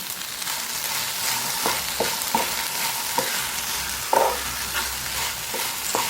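Tomatoes and curry leaves sizzling in a hot pan with salt while a spoon stirs them, a loud steady fry hiss close up, punctuated by sharp clacks of the spoon against the pan.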